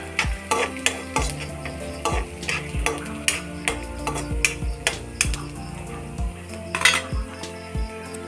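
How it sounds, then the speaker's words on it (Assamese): A utensil stirs chopped garlic and onion frying in oil in a pan, making quick, rhythmic metallic scrapes and clinks over a soft sizzle, close and continuous. "তাৰপৰা দিছোঁ নহৰুখিনি দি অকণমান লৰাই দিছোঁ"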